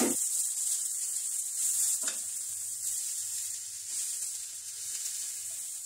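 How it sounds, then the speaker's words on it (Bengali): Bottle gourd, squeezed of its juice, fries over a low flame in a pan with cinnamon and small cardamom, giving a constant close sizzling hiss with one brief stirring scrape partway through. "ভালো করে একটু লাউটাকে ভেজে নেব, যাতে কাঁচা গন্ধ না থাকে।"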